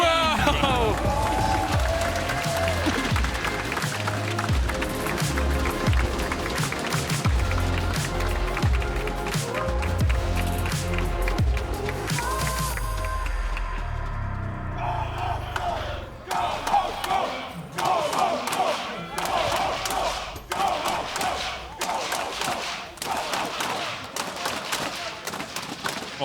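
Esports arena audience at a League of Legends match, Rogue versus Astralis, roaring and cheering loudly and continuously, dense crowd noise with scattered shouts, swelling then breaking into sharper bursts of yells and claps.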